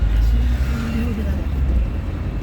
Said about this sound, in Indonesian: Jadi kita selesai dari stasiun itu naik mobil taksi.